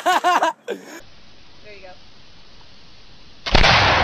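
A single loud gunshot cracks near the end, preceded by excited voices shouting and a stretch of quiet outdoor room tone.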